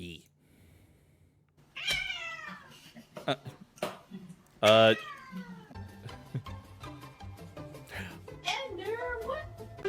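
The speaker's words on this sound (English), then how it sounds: "More funny cats." Cats from funny meme clips meowing and caterwauling in a quick string of drawn-out, wavering cries, some loud and close, mixed with bursts of people and children talking between them.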